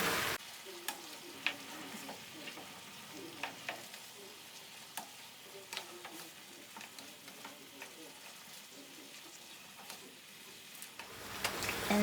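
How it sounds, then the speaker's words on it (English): Broccoli stirred into beef frying in a pan, a soft steady sizzle with intermittent spatula taps and scrapes, close but quiet. "I'm going to go ahead and add our broccoli. And we are going to stir that in."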